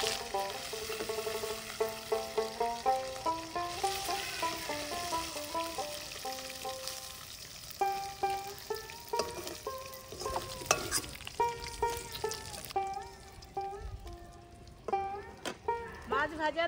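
Two dried red chillies sizzle as they are tempered in hot oil left over from frying a katla fish head, with steady frying crackle and stirring running under prominent tonal music.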